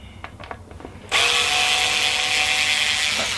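Some light tapping and handling of a Squier Strat SE guitar, then a power tool starts abruptly and runs at a loud, steady high-pitched whine until the end.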